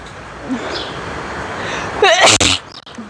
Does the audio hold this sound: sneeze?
yes